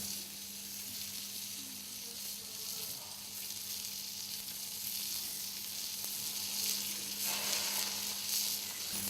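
A steak sears on a hot Himalayan salt block at an outdoor braai, producing a steady, close crackling sizzle that persists throughout and grows a little louder toward the end.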